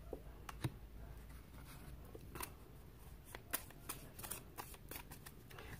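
Tarot cards being shuffled by hand, a soft papery riffling with scattered crisp flicks and taps at close range, quiet and steady with no voices.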